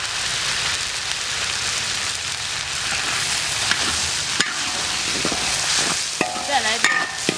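Garlic sizzles as it is stir-fried in a wok for garlic vermicelli shrimp, a loud continuous frying hiss with scraping stirs and a few sharp clinks of the spatula toward the end.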